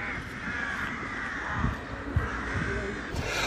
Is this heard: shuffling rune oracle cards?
no